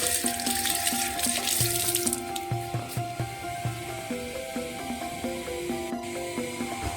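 Steady running water from a tap splashes into a basin, a continuous close wash with faint rubbing and clinks throughout.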